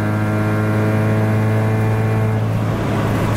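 Hyundai Tiburon engine with a turbo muffler exhaust, cruising at about 3,000 RPM and 65 mph: a loud, steady droning hum with a strong low tone, heard from inside the car throughout.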